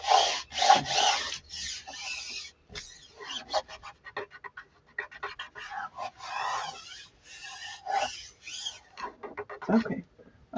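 Dry rubbing and scraping of a burnishing tool across a paper craft surface, in repeated strokes of varying length with short pauses between passes, close and moderately loud.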